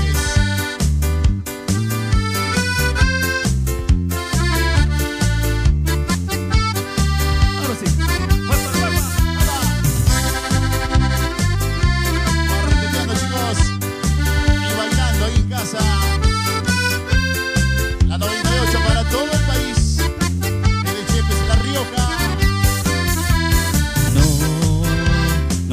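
A band plays a song live at Carrero Chepes 2020, a full, dense band sound with steady bass and rhythm running loud and continuous throughout.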